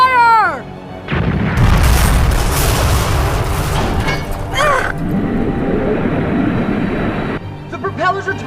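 Ship's cannon barrage from an anime firing in sequence, heavy booming blasts and rumbling roar filling most of the stretch, loud and close, with brief voices at the start and end.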